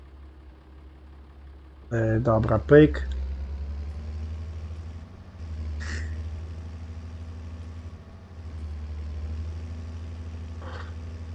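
A low, steady tractor engine idle in the video game Farming Simulator 22 drones throughout, with someone speaking briefly near the start over the rumbling motor.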